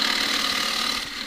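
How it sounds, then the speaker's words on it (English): A half-inch spindle gouge, rolled over and used as a shear scraper, cuts steadily against a small green casuarina bowl spinning on a lathe, giving a continuous bright hiss close by that eases off slightly near the end. "This is the half inch spindle gouge."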